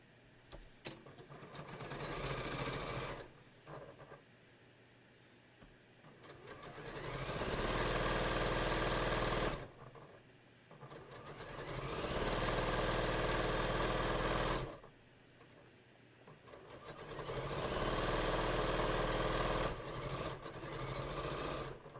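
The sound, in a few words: sewing machine stitching a beach tote bag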